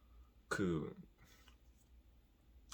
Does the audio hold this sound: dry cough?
yes